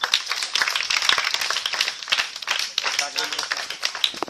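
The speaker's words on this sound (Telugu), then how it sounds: "మళ్ళీ చప్పట్లు కొడదాం." A group of people clapping together at an outdoor gathering for a village well project, rapid and continuous, fairly loud and close, with voices mixed in beneath the clapping.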